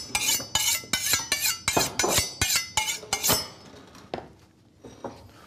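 Lettuce being chopped on a kitchen board, a quick run of sharp knife strikes with clinks, close and loud, thinning out toward the end.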